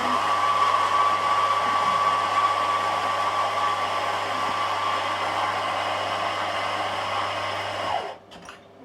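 An electric coffee grinder grinds coffee beans with a loud, steady whirring roar that holds for about eight seconds and then cuts off abruptly, leaving a brief quiet tail.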